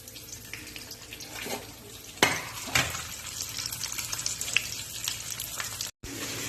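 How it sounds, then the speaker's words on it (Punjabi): Okra frying lightly in hot oil in a kadhai, a steady soft sizzle and crackle with a few sharper pops, close and continuous with no talking. "ਤੇਲ ਗਰਮ ਕਰਕੇ ਹੁਣ ਆਪਾਂ ਇਹਨਾਂ ਨੂੰ ਦੋ ਵਾਰ ਚ ਹਨਾ ਹਲਕੀਆਂ ਹਲਕੀਆਂ ਫਰਾਈ ਕਰਾਂਗੇ"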